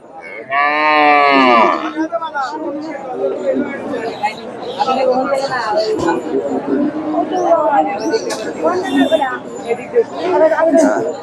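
A Sahiwal cow and calf low loudly at a busy livestock market, one long moo rising over constant crowd chatter and people talking nearby.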